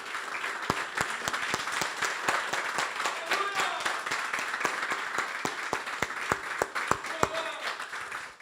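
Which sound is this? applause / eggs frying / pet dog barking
applause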